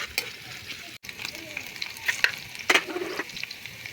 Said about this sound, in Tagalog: Gisa ta og ampalaya.